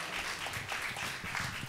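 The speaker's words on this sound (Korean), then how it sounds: "감사의 박수를 드리도록 하겠습니다" Faint, steady applause from a Korean church congregation after a choir's hymn, a distant wash of many hands clapping for under two seconds.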